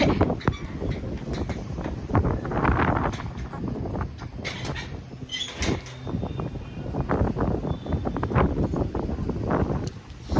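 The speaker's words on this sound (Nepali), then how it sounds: "कस्तो हावा चलेको छ" Strong outdoor wind buffets and roars in uneven gusts, loud and close, with rattling and flapping noises rising and falling throughout.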